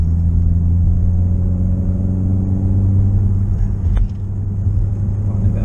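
Citroen C4 VTS 180 lapping the Bedford Autodrome GT circuit on a track day, a loud steady in-cabin engine drone with strong low rumble and a brief clunk near the end.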